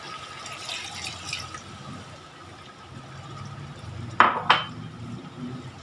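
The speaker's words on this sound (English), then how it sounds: "After 10 minutes, add a bit of water." Water is added to goat mutton curry being stirred in a pot. A soft wet pour and stirring sounds run under low background noise, then two sharp metallic clinks of a utensil against the pan.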